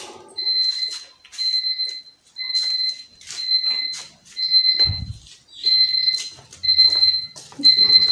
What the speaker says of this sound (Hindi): ओहो, ये कौन सा अलार्म गलती से पता नहीं कौन सा लग गया